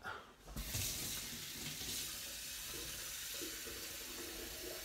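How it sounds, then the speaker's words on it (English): Hot tap water pouring into a cooking pan in a kitchen, a steady hissing gush that continues throughout, with a few faint clinks underneath. "Get the hot water in the pan, that way it will be quicker to boil."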